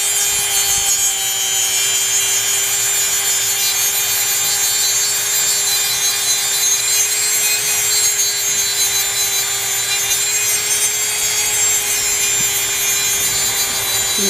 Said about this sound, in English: I'm using my Dremel 100, turning it on. Hear the power difference?